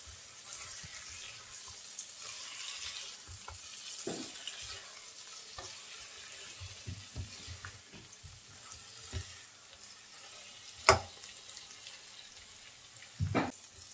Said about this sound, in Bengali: ধনিয়া পাতা দিয়ে ভালো করে নেড়ে চেড়ে মিলিয়ে নেব।